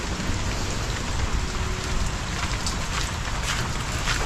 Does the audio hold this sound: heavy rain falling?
yes